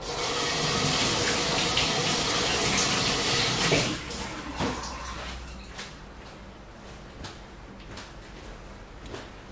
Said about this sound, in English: Gonna go wash my hands.